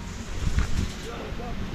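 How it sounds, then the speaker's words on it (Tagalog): Strong wind buffets the microphone outdoors at a wedding venue, a rumbling, gusting roar that swells and fades while a voice speaks over it. "Lakas ng hangin ah."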